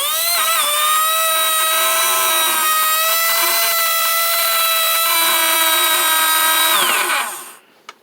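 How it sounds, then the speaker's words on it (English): An RC car electric motor wired straight to 36 volts whines loudly and close, its high pitch climbing and holding steady before spinning down sharply and cutting off near the end. "36 volts, straight to the motor."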